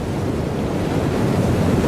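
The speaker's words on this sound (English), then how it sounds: "the next, they're tumbling in storm-tossed waves" Ocean waves in a storm roar continuously, a dense, loud wash of surf with gusting wind and no pauses or voices.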